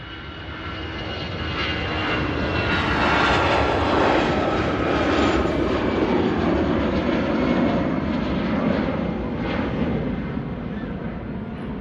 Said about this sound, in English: Perfectly timed with the rotation of that EasyJet there